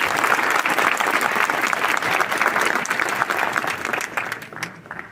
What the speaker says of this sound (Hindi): सभी लोगों से आग्रह है कि एक बार ताली बजा के उनका जो है उत्साहवर्धन करें